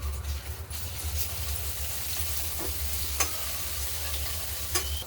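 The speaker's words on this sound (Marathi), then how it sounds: "आता मी इथं आलं लसूणची पेस्ट घातलेली, ती छान तळून घ्यायची।" Ginger garlic paste fries in hot oil in a pan, a steady loud sizzle and crackle with occasional stirring scrapes, with no voices.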